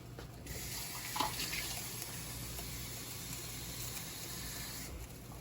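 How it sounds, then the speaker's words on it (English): Tap water runs in a steady, close rush, poured onto meat in a pot while cooking stew peas, continuous from start to finish with a small splash early on. "You think you need more water in your meat?"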